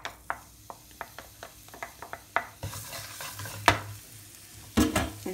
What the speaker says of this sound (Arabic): دونك في نفس الزيت غادي نقلي الثوم